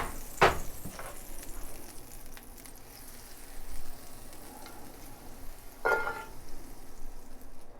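A tablespoon of butter melts with a tablespoon of olive oil in a cast iron pan heated over medium, producing a steady, soft sizzle. It continues throughout and is broken by a couple of sharp clanks and knocks from the stovetop.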